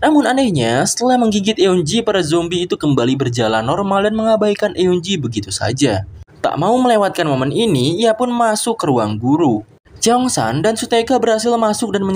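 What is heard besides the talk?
No distinct noise like a dog, phone or traffic.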